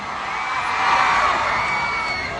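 A large crowd at a 2025 election grand caucus rally in Pasig roars with shouts, whoops and cheers, a dense sustained wall of voices that swells slightly in the middle.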